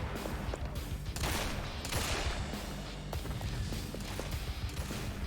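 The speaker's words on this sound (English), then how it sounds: "We're getting sniped." Sniper gunfire in the video game Danganronpa Ultra Despair Girls: a dense run of sharp shots and impacts over a busy game backdrop, with a few louder bursts standing out.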